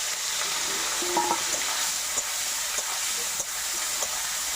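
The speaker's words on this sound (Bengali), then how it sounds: "মাছগুলো আমি ভেজে নেব।" Shrimp sizzle and crackle steadily in hot mustard oil, a dense continuous frying hiss with occasional pops and a few faint clinks of a utensil.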